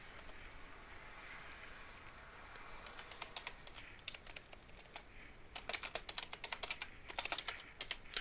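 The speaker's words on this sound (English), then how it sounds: "If you guys hear typing in the background," Keys clatter on a computer keyboard in a quiet room, faint at first and then faster, denser bursts of tapping toward the end, with a soft background hiss.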